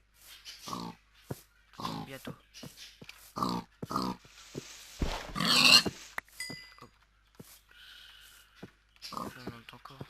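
Pigs grunting and oinking in Minecraft, several short repeated grunts spaced through the stretch alongside a game splash and other effects, with someone speaking French briefly over it.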